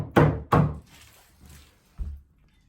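A wooden countertop being forced into an alcove gives two heavy, close thunks in quick succession, then a couple of softer bumps and one more dull knock, with no talking.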